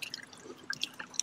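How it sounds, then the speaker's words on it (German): Water from a public fountain trickles and drips into a drain, heard as faint, irregular splashes and droplets close by, with no voices. "Da unten fließt das Wasser raus, spült schön die Zigarettenkippen weg und verschwindet da im Abfluss."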